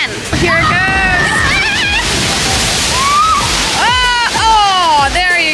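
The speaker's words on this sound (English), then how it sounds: "The amount of splashing." Water splashing and sloshing continuously at close range during a game on a large game board, loud and sustained, with excited voices and cheering over it throughout.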